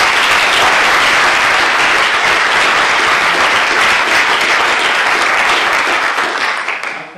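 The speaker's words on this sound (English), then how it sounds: "Round of applause for everyone." Loud, sustained round of applause from a crowd at a business networking mixer, dense and even throughout before tapering off at the end.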